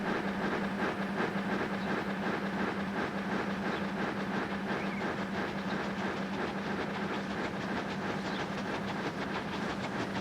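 A train runs on a UK line between London and Reading in Transport Fever 2, a steady rumbling rail roll with rhythmic clickety-clack and a low hum throughout, no speech.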